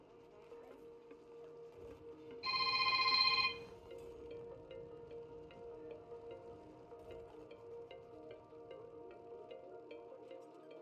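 A mobile phone rings in one short, bright electronic burst lasting about a second, loud and close, over a quiet steady hum from a background game soundtrack.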